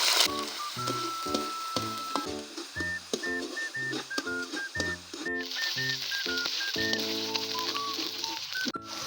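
Corned beef fries in hot oil, giving a steady soft sizzle and spattering over background music with a repeating melody; no talking.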